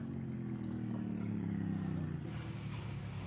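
A BMW motorcycle engine, tall off-road style bike at a flat track race at Daytona, drones steadily and loudly throughout with a sustained rumbling note and slight pitch swell, no voices over it.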